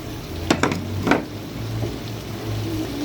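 Potato bhujia with tomatoes, green chillies and fresh coriander being stirred in a pan, a few near scraping knocks of the spoon early on over a soft steady sizzle.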